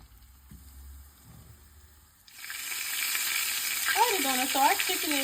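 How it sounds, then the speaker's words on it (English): Chicken drops into hot oil in a cast iron skillet and a steady loud sizzle and crackle starts, frying continuously after a quiet start with a few soft taps. "when it's sizzling, you know it's ready to go"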